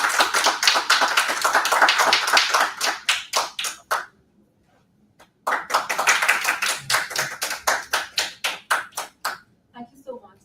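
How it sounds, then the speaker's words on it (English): Audience applause at a book launch and discussion, a dense burst of clapping that thins to separate claps, stops for about a second, then swells again and fades, with a speaking voice heard briefly in the crowd. "Let's have a huge round of applause for both of them."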